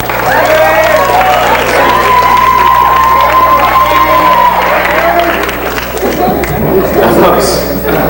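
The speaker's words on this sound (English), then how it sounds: "let's all give you a nice round of applause." A hypnotist show audience breaks into loud applause and cheering that fills the room, with voices and chatter mixed through the clapping.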